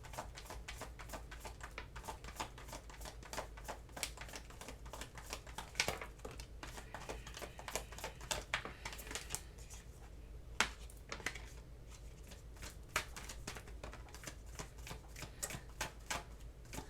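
Tarot cards being shuffled over and over, a steady run of crisp riffling snaps and soft slaps up close, with louder sharp flicks now and then and no talking.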